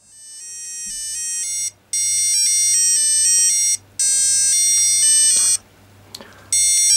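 Electronic start-up jingle from a Real Ghostbusters Ghost Blaster LCD handheld game, triggered as soon as batteries go in: bright, loud square-wave beeping melody with short gaps, over a low steady hum.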